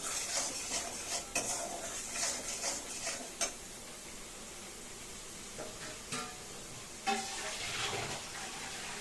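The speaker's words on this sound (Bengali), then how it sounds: "ভালো করে কষিয়ে নেব মশলাটা।" A spice paste being sautéed in a pan for a thin hilsa fish curry, with close sizzling and frequent scraping, clattering stirs of the spatula against the pan, busier at first and then settling.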